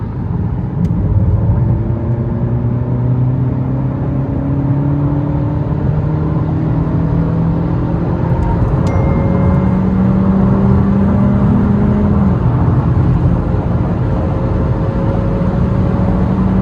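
A car engine held at full throttle in fourth gear from about 3,000 rpm, a loud, continuous drone that climbs slowly in pitch with a rising whine layered over it, with no talk.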